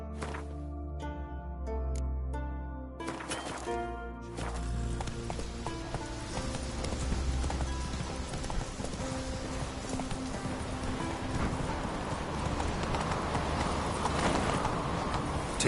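Roach, the horse in The Witcher 3, gallops on in a steady rapid run of hoofbeats, loud and close, laid over a continuous wash of game ambience and music.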